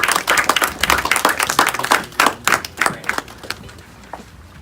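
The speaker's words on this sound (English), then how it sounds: "So why don't we just give a round of applause" An audience at a children's art contest claps in a steady, moderately loud round that gradually thins out toward the end, with no talking over it.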